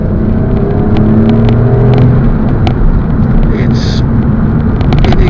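A 2008 Alfa Romeo Brera 3.2 drones steadily with a deep, rumbling engine note while driving, loud and close throughout, with faint speech mixed underneath.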